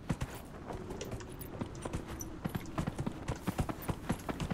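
Hooves of a horse ridden around a mountain in the video game Dragon Age: Inquisition, making a steady, brisk clip-clop rhythm of fairly close footfalls over a soft background, with no talking.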